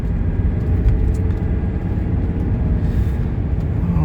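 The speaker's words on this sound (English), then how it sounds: "You press a little harder, all the way down, then a little harder, and it will drop the transmission a gear." A 1981 Mercedes 300SD heard from inside during a kick-down downshift, a steady low engine rumble and road drone filling the cabin, moderately loud with no talking.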